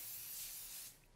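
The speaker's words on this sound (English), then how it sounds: "we're going to take some nonstick spray onto an aluminum foil tray" Nonstick cooking spray hissing from a can onto an aluminum foil tray, one continuous close spray that cuts off sharply near the end.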